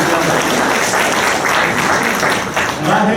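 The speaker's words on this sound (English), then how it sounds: "let's give a big round of applause to George and Carol for all their hard work" An audience at a 2018 symposium session gives a steady round of applause, continuous clapping from many hands that fills the room at moderate loudness.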